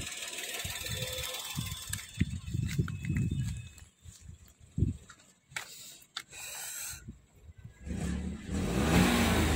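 A 2014 Daihatsu Ayla with a 1000 cc petrol engine revs up and settles back in several close, loud surges, with a steadier engine hum near the end. A voice can be heard faintly among the revs.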